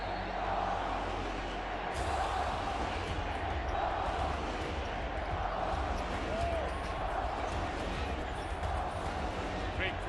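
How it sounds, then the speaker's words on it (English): A nearly full crowd murmurs in the Palacio de los Deportes in Mexico City before the 2015 FIBA Americas game between Mexico and the Dominican Republic, a steady, reverberant arena hum with faint distant thuds and calls. "Great crowd for this last game of the day."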